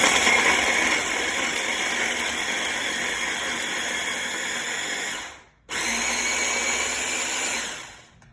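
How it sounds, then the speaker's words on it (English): A cheap kitchen blender whirs steadily while blending basil pesto for pasta alla Genovese, briefly cutting out and restarting before stopping, loud and close with no talking. "so that's with a shitty blender, but that's the consistency that you want"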